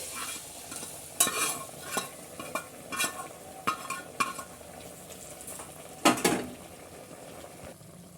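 Stirring drumstick curry in a pan: a spoon scrapes and clinks against the metal in several distinct strokes, with a soft sizzle underneath, close and fairly quiet.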